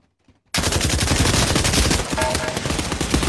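An MP40 submachine gun fires in the video game Pavlov, bursting in suddenly after near silence with loud, continuous rapid automatic fire and crackling echoes.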